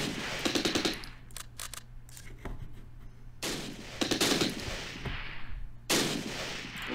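Tank gunfire in the wartime game Close Combat: Last Stand Arnhem, set in an assault on a Dutch village: loud bursts of rapid machine-gun fire broken by short pauses, alone without talk.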